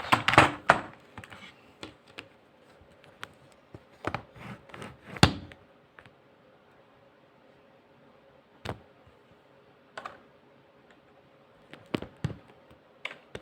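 Sparse computer keyboard clacks while playing Roblox, some in quick clusters of a few keys and others as single taps, separated by quiet pauses; close and fairly soft.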